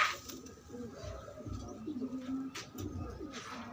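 Pigeons coo softly and repeatedly at close range, a low murmuring bubbling that carries on throughout with little pause.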